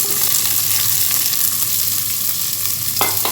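Sliced onions frying in hot oil in a pan for mutton kurma, a loud continuous sizzle with a brief scrape of stirring near the end.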